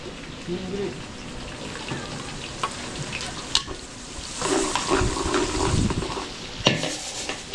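Garlic and onion frying for caldereta in a catering kitchen, a close, crackling sizzle with stirring and spoon clatter, growing louder midway with sharp scraping clicks.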